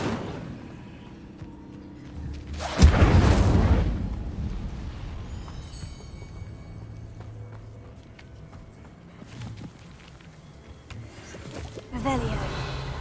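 Incendio fire spell cast in Hogwarts Legacy, a loud whooshing burst of flame lasting about a second, followed by quieter game ambience and a shorter flare near the end.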